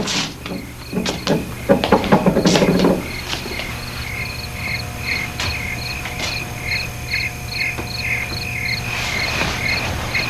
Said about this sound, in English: Those are the most monotonous fucking crickets I ever heard in my life.